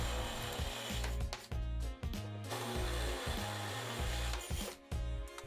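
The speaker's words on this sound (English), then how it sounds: "Pre-drilled everything with a small drill." A power drill whines steadily at close range, pre-drilling holes for a nightstand build, its pitch dipping and stopping briefly between repeated bursts as it bores into material.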